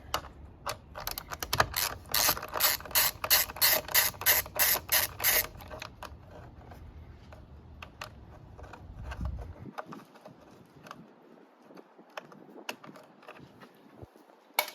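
A bolt on a 2022 Yamaha YZF-R7 motorcycle tail section is loosened with a number 4 Allen key, giving a rapid run of close, dry ratcheting clicks, then a slower scatter of light taps and clicks trailing off into quiet.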